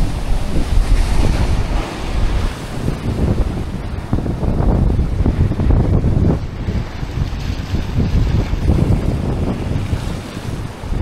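Sea waves wash onto a shore on the Italian coast near Rome, a loud, continuous surf with rolling surges and heavy wind buffeting the microphone, and no voices.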